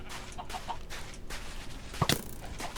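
Chickens cluck faintly in a video game, soft clucks scattered across the moment with a brief sharper burst near the end, set low against background noise.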